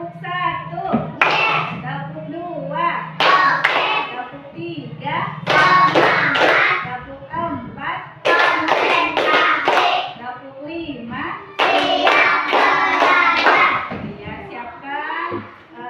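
A classroom of children in Barito Kuala claps in counted rhythm bursts during a call-and-response clapping game, sharp group claps alternating with a teacher's voice and children answering.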